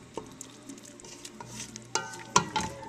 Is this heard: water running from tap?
no